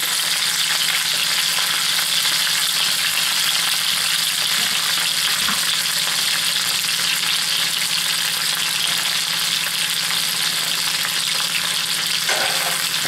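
Winter vegetables frying in hot bacon dripping in a pan, a loud, continuous close sizzle with occasional stirring sounds throughout, no talking.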